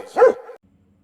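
A single dog bark rings out loud and close, one sharp woof that trails into a brief whine before dropping to near silence.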